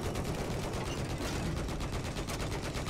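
Sustained automatic gunfire in the video game Battlefield 4, a dense unbroken rattle of shots filling the whole stretch, loud and close, with no talk.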